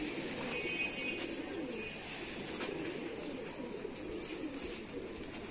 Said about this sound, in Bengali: তারপর এখন কবুতরের ধান দুইতেছি